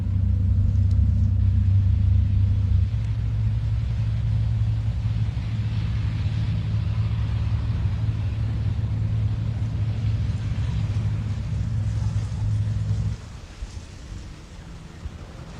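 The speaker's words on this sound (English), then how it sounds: "Soviet armored personnel carriers out on patrol" Soviet armored personnel carriers rolling past on patrol in a convoy on a highway, a heavy continuous engine and track rumble with wind noise that drops off sharply near the end.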